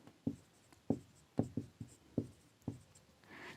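Chalk or marker writing on a board during an algebra lesson, six or seven distinct tapping strokes in an uneven rhythm, close and fairly quiet, no talking.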